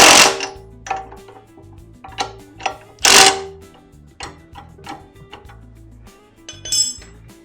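A nylock nut is run down a bolt by hand while assembling a motorcycle jack hitch hauler, giving a string of irregular metallic clinks and ratcheting clicks, close and fairly loud, with no talking.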